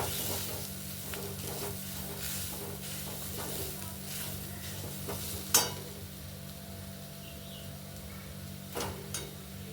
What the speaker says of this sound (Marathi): मसाला थोडा परतून घ्यायचा.